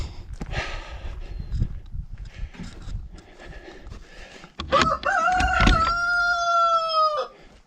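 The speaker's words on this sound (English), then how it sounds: "I'm going to let out the chooks." Backyard chickens are let out of their coop, with shuffling and clucking followed by a loud, close rooster crow held for about two seconds; no talk.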